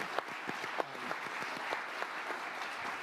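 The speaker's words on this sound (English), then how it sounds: "So we'd be remiss not to just give him a round of applause just by himself for this right now." Audience applause at a religious freedom forum, steady clapping from a moderate crowd with a few sharper individual claps standing out, continuous and mid-distance throughout.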